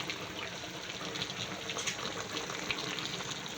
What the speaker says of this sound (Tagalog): Kumulo na po.